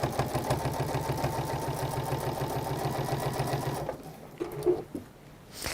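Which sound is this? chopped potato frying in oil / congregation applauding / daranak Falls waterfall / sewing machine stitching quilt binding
sewing machine stitching quilt binding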